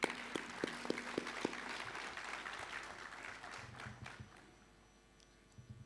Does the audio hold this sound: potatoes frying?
no